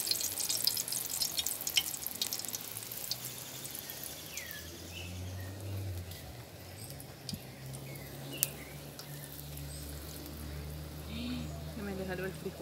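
Bean-filled Salvadoran empanadas sizzle steadily in very hot oil, a continuous fine crackle and hiss with occasional pops, faint and close throughout.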